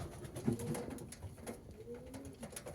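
Pigeons coo softly in their loft, a faint, low murmur of calls over quiet background noise lasting a few seconds.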